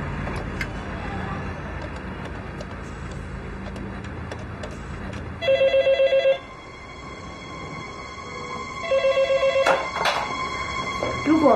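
A telephone rings in two bursts of shrill electronic trilling, about a second each, over a steady background hum, with an indoor drama scene around it.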